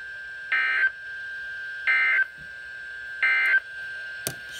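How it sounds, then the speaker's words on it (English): Three long, loud electronic alert tones at an even pace, each about a third of a second long, from a NOAA Weather Radio emergency alert system test, with a short click near the end. "This concludes the test of the NOAA Weather Radio Warning Alarm Device, an emergency alert system."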